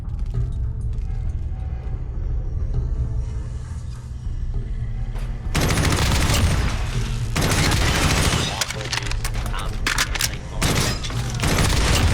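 Fallout 4 M4A1 rifle fire arrives midway as loud, close bursts of rapid automatic shots, several volleys in a row over game background noise.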